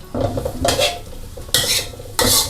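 Sliced mushrooms and garlic are stirred and scraped around a hot pan with a spatula in several quick strokes, with light sizzling underneath and no voices.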